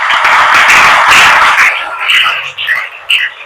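An audience at a discourse gathering claps in a dense burst that thins out and fades, with a voice speaking over it toward the end.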